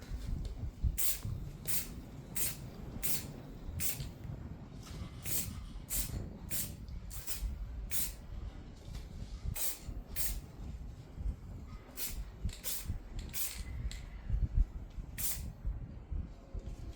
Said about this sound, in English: I put some black gloss spray on it.